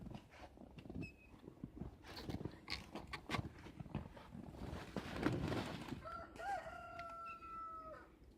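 Chickens in their pens cluck and squawk nearby in irregular bursts, and a rooster crows clearly near the end.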